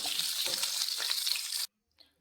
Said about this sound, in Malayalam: വെളുത്തുള്ളി മൂപ്പിച്ച് മാറ്റി